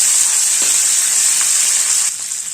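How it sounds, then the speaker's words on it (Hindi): Curry leaves and slit green chillies crackle in hot oil for a dhokla tempering, a loud, steady bright sizzle that continues without pause and eases off slightly near the end. "डाल देंगे 15 से 20 कड़ी पत्ते और ये 8 से 10 हरी मिर्चें चीरा लगी हुई, और इसे हल्का सा भुनेंगे"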